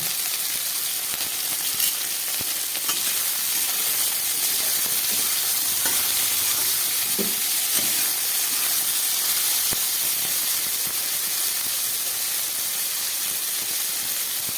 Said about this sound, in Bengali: ডাঁটাগুলো অনেকটাই ভাজা হয়ে গেছে।